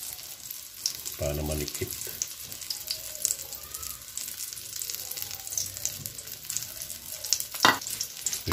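Scrambled egg sizzles loudly on an eggplant torta with ground pork in a pan, a constant crackling fry with scrapes and spatters; a voice speaks briefly early on.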